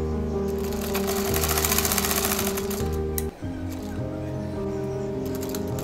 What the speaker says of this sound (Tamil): அதை வந்து இந்த லைன் மேலே வச்சு தைச்சிக்கலாம்.